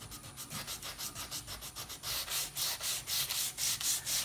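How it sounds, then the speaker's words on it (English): A knife being hand sanded with 120 grit 3M Pro Grade sandpaper, a steady run of rhythmic scraping strokes, close and clear, growing louder and harsher partway through. "all the sharp edges or little corners that I can feel, I'm sanding off"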